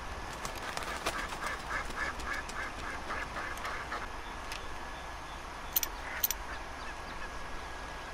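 A duck quacks in a short series of even, fairly faint calls within the video game Red Dead Redemption 2, set against quiet outdoor ambience, followed later by a couple of sharp high chirps.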